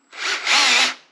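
A freshly hand-sharpened 1-inch drill bit bores into 1/4-inch mild steel plate with a brief, loud grinding and cutting rasp. The sound swells in two pushes and then cuts off after about a second.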